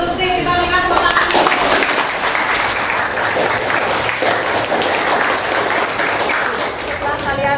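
Classroom audience applauding students, steady dense clapping from many hands throughout, fairly close and loud, with some voices mixed in.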